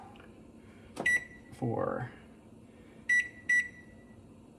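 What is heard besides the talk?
beeps setting a timer on the stove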